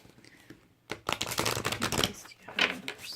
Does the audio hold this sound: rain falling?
no